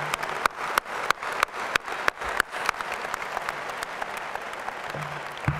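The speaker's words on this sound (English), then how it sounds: "so let's give them a round of applause" A commencement ceremony audience at a journalism school graduation breaks into applause, a dense wash of clapping with sharp individual claps standing out, steady and fairly loud throughout with a faint voice near the end.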